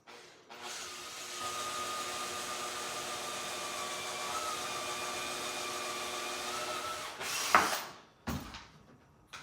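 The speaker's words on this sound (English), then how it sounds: "So again with the drill bit, I'm just going to drill a hole." A steady electric drill whines continuously for several seconds while boring a hole in bamboo, then cuts off, followed by a couple of short knocks and clatters.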